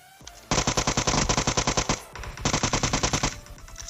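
Automatic gunfire in PUBG Mobile, two rapid bursts of loud, evenly spaced shots with a brief pause between them, close and clear with no talk.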